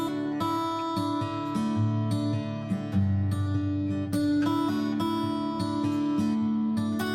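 Strummed acoustic guitar chords widened with a 10 ms sample delay in Logic, full and sustained with rhythmic chord changes, close and steady without any talking.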